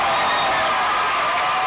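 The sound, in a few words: basketball crowd cheering for West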